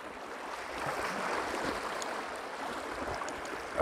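The Río Grande flows in a steady, soft rush of river water, broadband and continuous, with a louder splash or burst at the very end.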